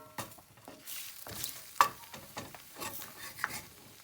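Food frying gently over low heat in a cast iron pan, turned with a wooden spatula: soft repeated scraping strokes over a low, faint sizzle, one sharper knock midway.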